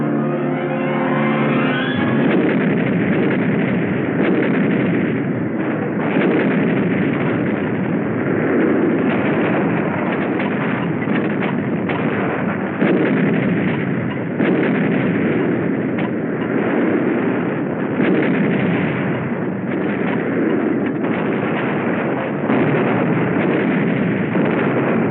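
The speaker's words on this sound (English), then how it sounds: "We call for artillery." An artillery barrage on Iwo Jima in 1945 rumbles continuously through a loud, muffled old recording, with dense overlapping booms and blasts filling the whole stretch.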